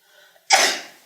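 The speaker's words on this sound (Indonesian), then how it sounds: "Maaf, saya bersin." A single sharp sneeze bursts out after a faint, quiet lead-in, loud and close, then trails off over about half a second during a live coding session.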